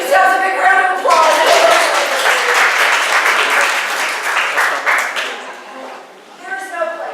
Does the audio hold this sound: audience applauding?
yes